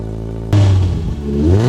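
Toyota GR86 with a TOM'S single exhaust with two tips, revved hard: a steady idle jumps into a loud rising engine roar, dips briefly, then climbs again, close and with no talk.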